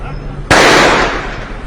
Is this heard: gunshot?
yes